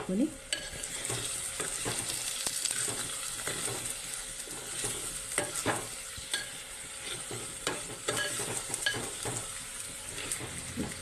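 Small fish frying in oil with garlic in a pan, gently turned over: a steady close sizzle with intermittent scraping and clinking of the spatula against the pan.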